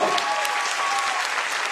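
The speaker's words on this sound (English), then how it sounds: "Clap for them." A school annual day audience bursts into a full, dense round of clapping, loud and continuous for under two seconds with a faint crowd murmur underneath.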